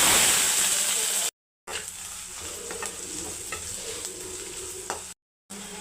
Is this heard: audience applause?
no